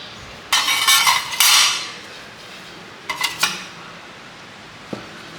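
Rolled rice-flour dough for pathiri being cut with a cutter: two clattering bursts of metallic scraping and tapping on a hard surface, then a single sharp click, with quiet pauses between.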